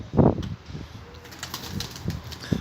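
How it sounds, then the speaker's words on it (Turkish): Pigeons flapping their wings as they take off, a burst of rapid feathery beats up close, followed by further flutters and a soft coo. "Bakalım kaç tane kuş uçuracak bize"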